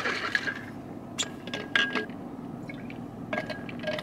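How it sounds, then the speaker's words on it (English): Orange electrolyte drink powder shaken in a bottle of water: a few short bursts of sloshing liquid and light clinks, spaced apart and fairly quiet, with no talking. "I'm gonna go ahead and put that in my water right now and give it a little shaking."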